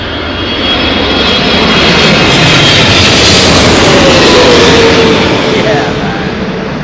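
Airliner jet engines roar loud and close at Heathrow Airport in a gusty storm, a broad sustained rumble that swells in the middle and eases toward the end.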